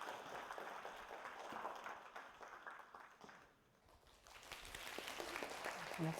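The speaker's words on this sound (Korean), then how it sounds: "김영현 멘토 친구 큰 박수로 또 앞에 모시도록 하겠습니다" At an admissions information session, an audience gives faint, scattered applause that dips briefly midway and then swells again.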